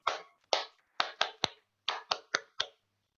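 A group at a company pre-launch event in Kuala Lumpur claps in unison, about nine sharp, evenly spaced claps in quick succession, fairly close and crisp, with no talking.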